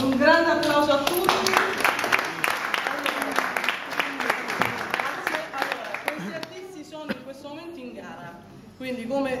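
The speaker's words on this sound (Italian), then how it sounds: "Un grande applauso a tutti." Scattered clapping from a small crowd at a group painting exhibition in Rome runs beneath lively, overlapping voices and chatter, the claps uneven and mid-level, with talk dominating most of the stretch.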